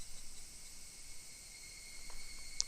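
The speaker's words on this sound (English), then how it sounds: "Only the cry of the cicadas remained annoyingly loud" Cicadas in the game Higurashi no Naku Koro ni drone in a continuous, shrill, even chorus, with no voices over the steady buzzing.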